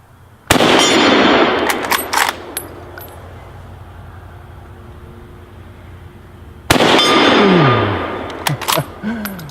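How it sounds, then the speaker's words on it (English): Two loud, sharp rifle shots from a Kar98k bolt-action rifle fitted with a bayonet, fired outdoors several seconds apart, each with a long ringing decay and echo. "it shoots just fine with the bayonet or without it"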